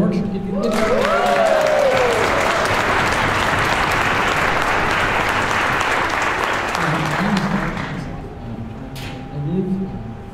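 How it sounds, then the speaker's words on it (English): A community orchestra's first concert draws loud, sustained applause from a close, full audience for about eight seconds before it tapers off. A voice is heard briefly at the start and again near the end. "Give you a big round of applause."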